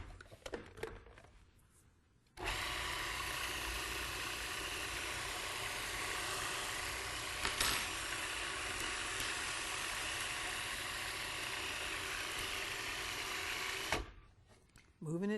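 Food processor blending kelp into a patty mixture, a loud, steady motor whir that starts abruptly and runs unbroken for about eleven seconds before cutting off, with faint noises before and after.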